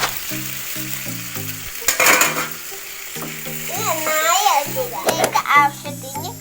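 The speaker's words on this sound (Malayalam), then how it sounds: "ഇതിലേക്ക് നേരത്തെ തയ്യാറാക്കി വെച്ച ചിക്കൻ ചേർത്ത് കൊടുക്കുക." Prepared chicken going into a sizzling kadai masala for restaurant-style kadai chicken, with frying hiss and a few stirring clatters heard under loud background music.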